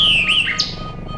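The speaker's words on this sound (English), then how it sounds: "Here are my bird songs for study" A bird's song played back as a recording for study, a bright whistled phrase sliding downward followed by a couple of short high chirps, close and clear over a low steady hum.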